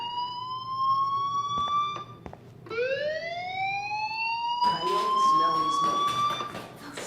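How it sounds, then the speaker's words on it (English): A fire alarm rings inside the video game Life is Strange, a piercing tonal wail with rising sweeps that restarts mid-way, loud and continuous with clattering game noise layered over it near the end. "Hey, do you hear that fire alarm?"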